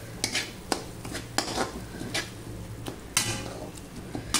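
A utensil stirs and scrapes gravy with ginger-garlic paste in a pan, a series of close metallic clinks and scrapes over a faint sizzle of frying, with no talking.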